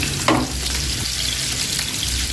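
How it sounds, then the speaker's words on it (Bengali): Onions frying in two woks on a home stove while cooking for the first day of Ramadan; a steady close sizzle with a brief stirring scrape near the start, no voices. "এই তো এখন দুইটা কড়াইয়ে পেঁয়াজ দিয়ে দিলাম"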